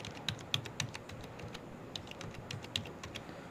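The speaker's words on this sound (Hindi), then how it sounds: "तो फटाफट से मैं डाल देता हूँ आधार नंबर" Fingers type an Aadhaar number on a computer keyboard while filling in a government credit card scheme application, a quick run of crisp, close key clicks in an irregular rhythm with no talking.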